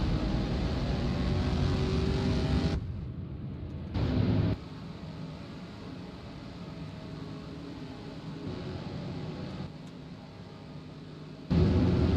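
Race car engines in NASCAR Racing 2003 at Texas drone in a steady, loud roar, with abrupt cuts in level as the sound shifts between louder and quieter stretches, no talk over it.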